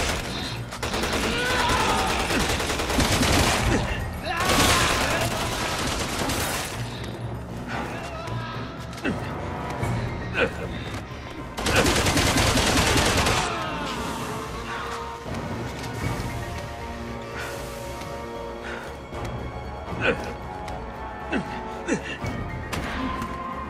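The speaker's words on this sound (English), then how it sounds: "I'm taking a little fire here!" Rapid gunfire in the Resident Evil 6 video game, loud bursts of shots that come and go in waves, mixed with crashes and thuds, with characters speaking between the volleys.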